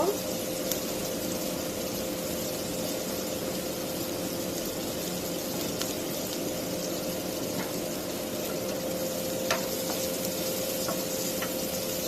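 Bitter gourd and potato fry in oil in a pan with a steady, even sizzle that holds throughout, with a few faint clicks and scrapes on top.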